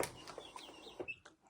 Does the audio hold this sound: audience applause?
no